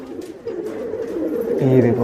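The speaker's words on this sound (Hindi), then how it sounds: "कबूतर वगैरह" Soft pigeon coos from a rooftop loft in Vikhroli, Mumbai, murmur through the clip alongside a person talking, growing a bit louder toward the end.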